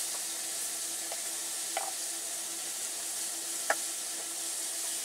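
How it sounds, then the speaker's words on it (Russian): A frying pan heats on a stove at an overnight ice-fishing camp on a frozen lake in hard frost, giving a steady loud sizzle with a couple of faint clicks and ticks, and no voices. "Он накаляет вот такую сковородку."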